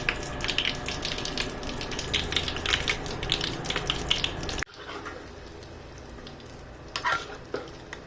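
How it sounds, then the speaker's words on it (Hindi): Potato nuggets fry in hot oil with a dense, crackling sizzle that fills the first half, then drops to a quieter sizzle with a few light stirring scrapes. "इसी तरह सबको फ्राई कर लूँगा।"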